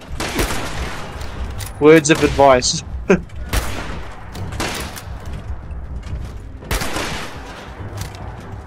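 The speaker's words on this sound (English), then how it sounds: "And it's shooting at us." A protectron robot in Fallout 76 fires a quick burst of gunshots in the middle, several sharp close cracks, with people talking over and around it.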